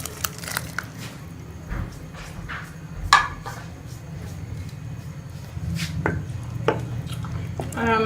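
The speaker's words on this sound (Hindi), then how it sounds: "हमने पकौड़े अब इसके अंदर डाल दिए हैं।" Fried gram-flour pakoras drop into a pot of kadhi (a yogurt curry) in a home kitchen, making a few soft plops and squelches over a low steady hum, with a brief clatter near the middle.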